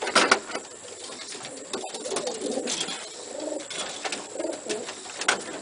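A racing pigeon hen coos in soft, repeated rolling calls close by, with some handling clicks and rustles around her.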